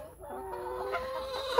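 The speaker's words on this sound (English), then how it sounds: "Okay, next part of the day is feeding the chickens." Chickens on a farm cluck and call close by in a brief burst of overlapping, rising tones, with no talking.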